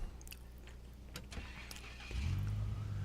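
A Chevy truck in the video game SnowRunner rattles and clicks, then its engine starts and settles into a steady low idle.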